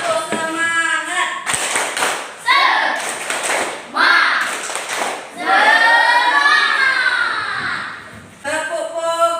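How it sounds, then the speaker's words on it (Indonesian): Schoolchildren in a classroom do a rhythmic group clapping chant, bursts of sharp hand claps alternating with a teacher and kids calling out together, loud and close. "kita tepuk semangat dulu ya"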